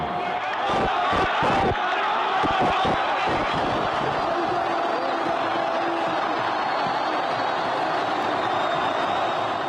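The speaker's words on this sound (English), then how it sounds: "Listen to that crowd." A large crowd in Egypt roars and cheers in celebration of Hosni Mubarak's resignation, a dense continuous wall of voices with whistles and scattered thumps, loud and sustained throughout.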